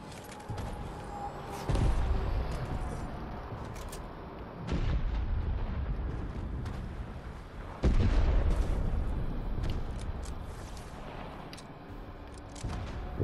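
A tank firing in Fortnite, with three loud, separate booming cannon shots spaced several seconds apart, each with a lingering rumble, distant-sounding against quiet background noise.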